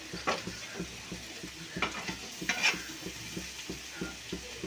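Eggs frying in a pan with raw prawns and raw tamarind, with steady close sizzling broken by repeated scraping strokes of a spoon stirring the pan.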